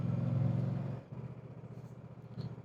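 Moto Guzzi Stelvio motorcycle ridden through town, a steady low engine drone with a slight dip and pickup in revs, heard up close with no talk.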